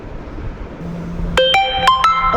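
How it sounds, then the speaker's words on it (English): A phone rings with an electronic ringtone of several short, bright tones in quick succession, fairly close and loud above a soft room background, with no talking. "Okay, of course there's a phone call."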